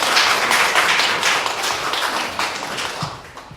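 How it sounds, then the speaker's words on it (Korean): A church congregation claps together during a 20th anniversary thanksgiving service, a dense, even wash of hand claps filling the room for a few seconds without talk. "우리 박수로 한번 응원하겠습니다"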